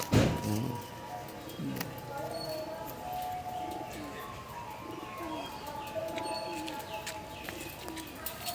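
Madrasi pigeons coo steadily in a loft, a low rolling murmur from several birds running throughout, with occasional chirps and faint background sounds; someone speaks over them at the start.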